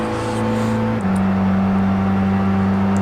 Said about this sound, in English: Probably one of my favorite sounding V8s